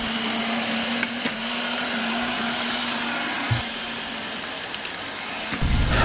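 An Eveage electric garden tiller runs with a steady, fairly quiet motor hum throughout, with a few soft thumps as it works the soil, heard close with no talking.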